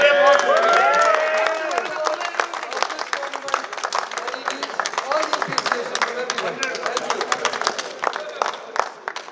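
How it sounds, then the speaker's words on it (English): Crowd applause at a padel tournament, dense rapid clapping that starts under a voice and then carries on alone at a steady level for several seconds. "a special round of applause"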